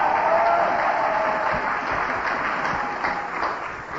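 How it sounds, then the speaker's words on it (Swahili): Church congregation applauding together, a dense continuous wash of clapping that is moderately loud and fairly even throughout. "Piga makofi za Mungu wa mbinguni."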